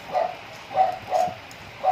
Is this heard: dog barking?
yes